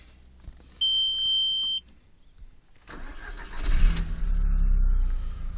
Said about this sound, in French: donc on va allumer la voiture.